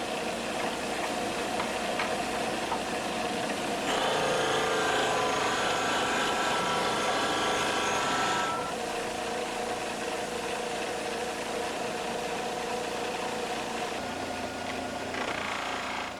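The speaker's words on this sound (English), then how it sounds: "the back is polished with a buff" A wire buffing wheel polishing the back of a very thin blade set in a sharpening board gives a steady, loud whirring grind throughout, with a harsher, brighter stretch of contact partway through.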